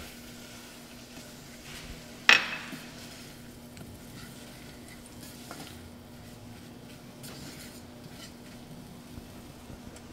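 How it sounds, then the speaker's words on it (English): Apples cooking down in a pot are stirred: one sharp clank of a spoon against the pot early on, then a quiet, steady simmer with faint stirring over a low background hum, no voices. "I'm going to give this a stir, and I'm just going to let it cook down"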